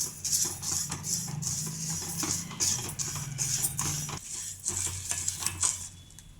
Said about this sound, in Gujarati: ધીમી આંચ ઉપર આપણે આ મસાલાને ચલાવતા રહીશું અને શેકી લઈશું